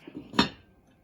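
A lid is set onto a pot of beef stew, one quick metallic clank with a short ring that dies away fast, heard close and alone in a quiet room.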